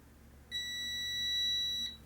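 A single steady electronic beep from a multimeter holds for over a second, clear and fairly loud against a faint background hum, then cuts off.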